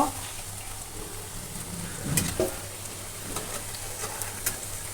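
Jackfruit seed koftas fry in hot oil with a steady soft sizzle, punctuated by a few brief clinks and scrapes as they are turned in the pan, with no voices.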